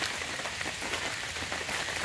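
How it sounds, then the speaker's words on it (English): Light rain patters steadily through tree cover over a campsite, a continuous soft hiss of drops on leaves and surfaces with no voices. "Thankfully, it's not raining too hard, and the tree cover kind of helps"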